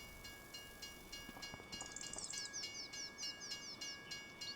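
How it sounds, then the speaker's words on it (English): Long freight train rolling past in Farming Simulator 25 on a straight route across a Montana plains farm map, steady rhythmic clatter of wagons with a continuous rumble, birds chirping over it, no talk. "So yeah, there's the train."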